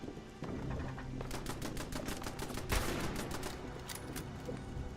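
Scoped rifle fire in a video game comes as a rapid, dense volley of sharp cracks, loud and close over a steady background din, with one heavier blast midway.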